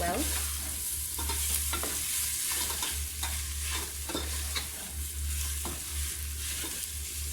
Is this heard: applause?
no